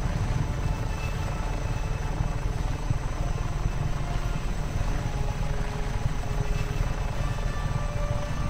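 A helicopter in the video game Just Cause 3 thrums with a steady, loud rotor chop and engine drone throughout, close and constant with no talk.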